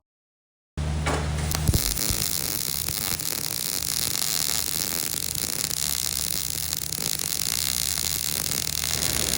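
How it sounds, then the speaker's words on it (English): MIG welding on a metal cart after wire-wheel cleaning: after a moment of silence, a steady continuous buzzing hiss with electrical hum runs unbroken for about nine seconds, close and even in level. "I'm just MIG welding it"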